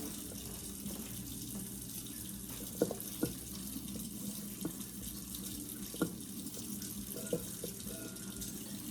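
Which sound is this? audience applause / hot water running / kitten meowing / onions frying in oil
hot water running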